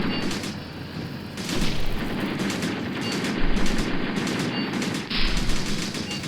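Gunfire in Graviteam Tactics during a Soviet-Afghan War battle: loud, continuous rattling automatic fire with several heavy booms rising out of it, all in a dense combat ambience.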